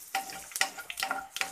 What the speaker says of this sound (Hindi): राई डालेंगे, जीरा डालेंगे थोड़ा सा और इसे इस तरीके से बराबर से चला देंगे।